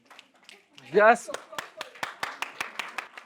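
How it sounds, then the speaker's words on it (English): An audience of educators claps in a steady series of sharp, distinct hand claps following a brief burst of speech from a nearby voice. "All the educators over here are clapping."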